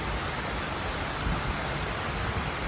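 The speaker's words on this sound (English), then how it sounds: "Rain gonna fall? Well, yes. It's falling." Heavy rain falls steadily in Guyana during the rainy season, a dense, even hiss of drops hitting surfaces, close and constant with no pauses and no voices.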